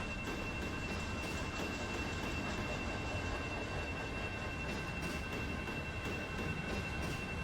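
A CSX freight train hauls loaded rock hopper cars in the Run 8 Train Simulator game, giving a steady, continuous rumble and rattle of rolling cars with no talk.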